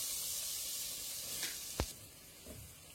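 Butter and flour sizzle in a saucepan, a faint, even high hiss running throughout, broken by a single soft knock partway through and a slight stir toward the end.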